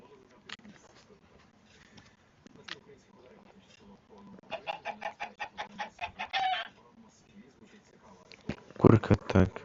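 Chickens clucking close by in a rapid rhythmic run of short clucks, then a louder burst near the end, with quiet background noise between calls.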